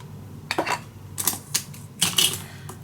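Scissors cut black bookbinder's linen for a handmade folio in a few short snipping bursts with small crisp clicks, close and fairly quiet, with no talking.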